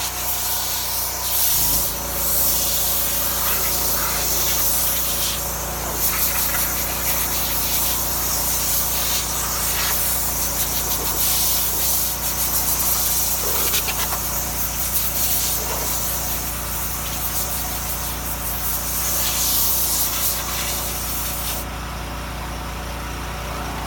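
Loud, continuous broadband hiss of a compressed air blow gun drying a car, blowing steadily for a long stretch, close by, with no talking.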